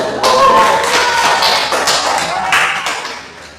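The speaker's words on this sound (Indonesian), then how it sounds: "Tepuk tangan." A classroom full of people claps together for a few seconds, loud and close, the applause fading slightly toward the end.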